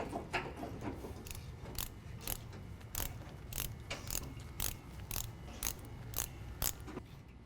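A ratchet wrench tightens the sway bar drop bracket bolts on a 2017 Ford F-150 4WD during a lift kit install, a fairly quiet, steady run of evenly spaced clicks.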